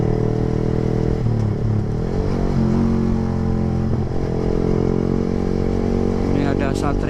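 A small motorcycle engine runs loudly close by, its pitch rising and falling as it revs, with some rattling and a voice talking over it.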